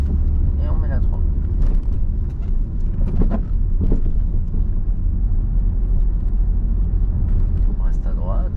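Steady engine drone of a car after shifting into third gear during a driving lesson, a continuous low rumble throughout with a voice talking over it.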